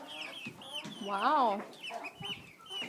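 Chickens cluck close by in a farmyard coop, a run of short calls with one drawn-out squawk in the middle, and a person speaks briefly.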